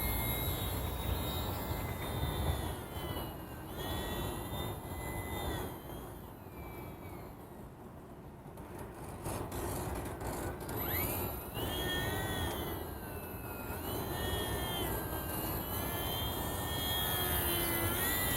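A small 47-gram Horizon Hobby T-28 Trojan S radio-controlled model airplane flies near a lake on a cold morning, its electric motor a thin, steady whine that rises and fades slightly as it passes, under broadband wind noise.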